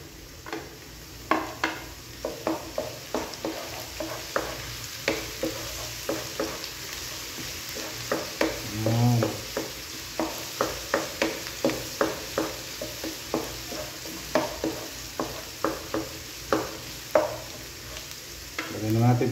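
Ginger sizzles steadily in a hot pan while a utensil scrapes and stirs it in regular, rhythmic strokes, with a few clinks from the cookware.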